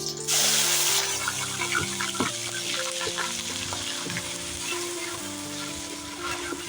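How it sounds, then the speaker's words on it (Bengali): Ground spice paste of cumin and more frying in oil in a pan on a village clay stove, with a burst of loud sizzle at the start settling into a steady close crackle, with faint background hum and no voices. "ভালো করে একটু ভেজে নেব যাতে কাঁচা গন্ধটা না থাকে"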